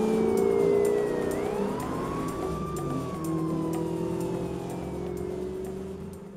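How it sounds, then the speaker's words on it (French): Police sirens wail behind a car speeding through a city, the rising and falling tones layered over engine rumble and road noise, loud and steady throughout. "des sirènes de police commencent à retentir derrière vous"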